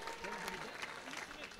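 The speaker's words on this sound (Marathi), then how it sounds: "सुमितसाठी मित्रांनो जोरदार टाळ्या" Faint, distant applause from a crowd at a local cricket tournament final rises and ripples after a fine piece of fielding, blended with an announcer's voice.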